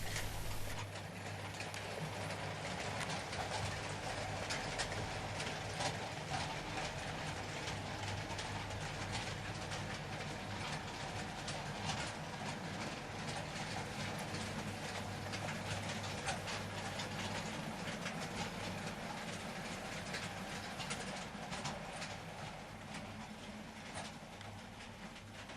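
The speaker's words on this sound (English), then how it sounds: "The C2X departs from the goods yard with a northbound working to Norwood Junction." A C2X locomotive departs a goods yard with a northbound goods train, giving a steady, continuous mechanical rumble and clatter with a low hum throughout, heard alone.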